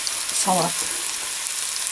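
Vegetables with sweet pepper and potato fry in oil in a kazan, giving a steady close sizzle throughout, with a brief spoken word partway through.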